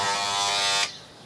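A vintage 1983 Remington vibrator-type electric shaver plugged into mains power buzzes with a steady, loud hum for under a second, then cuts off abruptly, leaving faint background noise.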